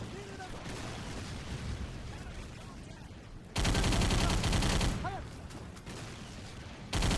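Gunfire rages in a video game combat mission, with dense bursts of automatic fire that swell to a loud, sustained roar, drop back and then surge again over a busy battle background.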